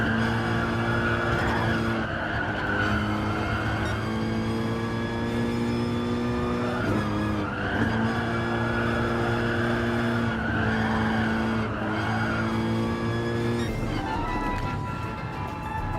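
A race car on its final lap in Gran Turismo Sport VR, engine droning loud and steady with rising and falling revs through gear changes and repeated tire squeals through the corners.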